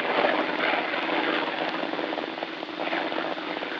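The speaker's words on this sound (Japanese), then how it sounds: "折しも味方の爆撃機数機が地上進撃部隊に協力するため敵陣上空に姿を現した。" Several Japanese bomber aircraft flying over enemy positions at Corregidor produce a steady, loud droning engine roar that holds constant throughout, with no voices.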